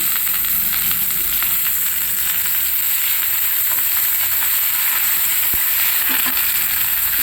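Curry leaves frying in hot oil with dried red chillies for rice flour upma, a loud, dense, unbroken hiss of sizzling with faint stirring scrapes.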